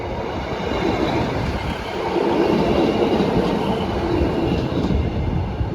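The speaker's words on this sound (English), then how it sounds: "That is an ECS service going to Cardiff Canton sidings from Barry Island." An empty coaching stock train rolls past a foot crossing on a grey day, running from Barry Island toward Cardiff Canton sidings; a loud, close, continuous rumble of wheels and carriages swells slightly midway and holds steady throughout.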